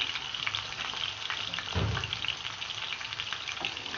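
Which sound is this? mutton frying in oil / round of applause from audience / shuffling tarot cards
mutton frying in oil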